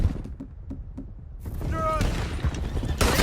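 Gunfire from Red Dead Redemption 2 sounds as a rapid series of sharp, close shots in quick bursts, followed by mechanical clatter and game noise, with voices talking over it.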